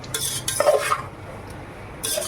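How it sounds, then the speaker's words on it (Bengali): Rice is stirred in a pan of oil and ghee, giving a few short scraping bursts of a spoon against the pan, with light sizzling between them and no speech. "এই যে ভাজছি তেল আর ঘিয়ের মধ্যে"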